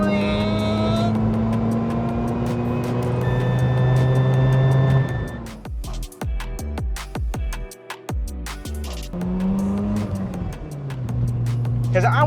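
A Mazda RX-7 Spirit R with its rotary engine runs steadily at idle and then revs, giving a smooth, buzzy drone with sharp throttle blips partway through, close by, while people talk over it.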